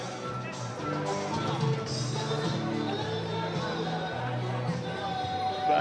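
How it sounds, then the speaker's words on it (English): A street busker performs amid a busy crowd in Chester during Diwali celebrations, with steady tonal music under constant street hubbub and chatter. "The noise you can hear is from a street busker"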